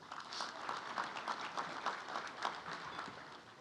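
Faint crowd applause at a sports club jamboree, a soft, even wash of many hands clapping heard from a distance, with no speech.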